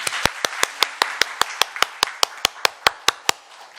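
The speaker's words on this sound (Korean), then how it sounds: "새로운 시작을 응원하는 의미에서 축하의 박수를 부탁드립니다." People at a city council environment and welfare committee meeting clap in congratulation for a departing official, a sparse, evenly spaced run of single sharp claps at a steady rhythm in a quiet room.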